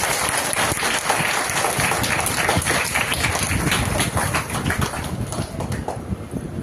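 An audience at a business event claps in sustained, dense applause that holds steady throughout, fairly loud and continuous with no talk on top.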